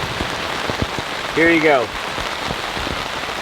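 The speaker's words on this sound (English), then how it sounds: "Non-stop rain, non-stop storms." Heavy storm rain pours steadily onto a campsite in Japan, a dense, constant hiss with scattered drops tapping nearby surfaces, while a voice briefly speaks partway through.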